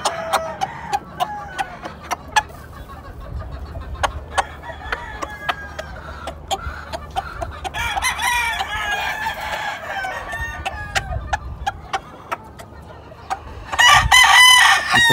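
A gamecock rooster crows and clucks nearby, with sharp repeated clucks and crowing bursts among other birds, building to a louder burst near the end.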